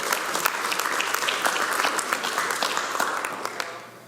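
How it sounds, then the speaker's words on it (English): An indoor seminar audience applauds steadily as a couple is introduced, the dense clapping holding at moderate loudness before tapering off toward the end. "Let's give a nice round of applause to Michael and Rachel Blackston."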